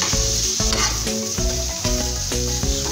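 Broccoli stirred in a hot frying pan for homemade Chinese food: loud continuous sizzling broken by rhythmic scraping strokes of the utensil, close up, with no talking.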